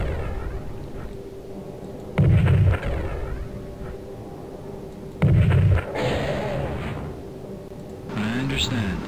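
Units firing on orcs in the strategy video game Spellcross: two heavy, booming blasts a few seconds apart, each followed by a rumble, over a continuous low battlefield drone, with a further burst near the end.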